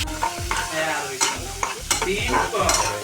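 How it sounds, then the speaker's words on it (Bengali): Shrimp frying in a pan with onion and salt, a loud close sizzle with busy stirring, the spatula scraping and clacking repeatedly against the pan, no voices. "চিংড়ি মাছটা খুব সুন্দর করে ভেজে নিতে হবে"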